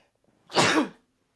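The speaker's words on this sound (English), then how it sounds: "Sorry about to sneeze." A single short, sharp sneeze from a person with allergies bursts out during an indoor interview, close and loud, then gives way to silence.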